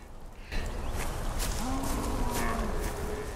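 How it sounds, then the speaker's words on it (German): Goats in the game Far Cry Primal let out a couple of drawn-out, low, tonal bleats close by, over a steady outdoor ambience. "Das sind auch wieder Ziegen."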